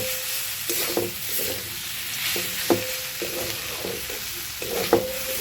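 Red amaranth greens sizzle in a pan as crushed peanuts are stirred through them, with a spatula scraping in a handful of distinct strokes over the constant frying hiss.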